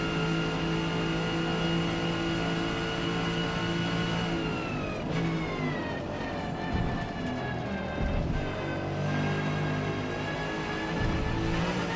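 A naturally aspirated car engine in a racing video game, holding a loud steady high-revving drone, then dropping in pitch at a gear change around midway before climbing again, with no turbo whistle and no talk.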